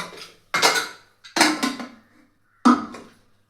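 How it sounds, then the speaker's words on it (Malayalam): A pressure cooker being washed and handled gives three separate metallic clanks and clatters, each ringing out briefly, close by with no talking. "കുക്കർ കഴുകി അടുപ്പി വെക്കിട്ട്"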